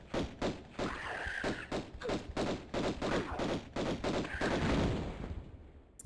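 Rapid pistol gunfire from Tomb Raider 1 Remastered's Unfinished Business expansion, a dense run of sharp repeated shots with thuds and game effects throughout, loud and continuous with no speech over it.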